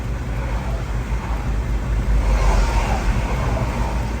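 A Ford F250 engine runs steadily just after starting, a loud continuous low rumble that swells briefly in the middle and holds without a break.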